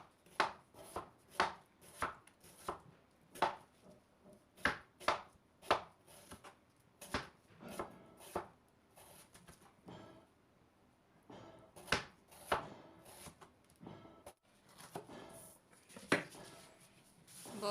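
A knife finely slices an onion on a cutting board for cabbage pakora, giving a run of sharp, close, rhythmic chops with a brief pause partway through before the chopping resumes.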